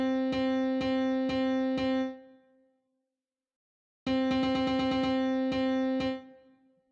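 Grand piano plugin notes in FL Studio sound in two bursts: four sustained notes that ring out and fade, a silent pause, then a faster run of repeated notes that decays, clean and alone.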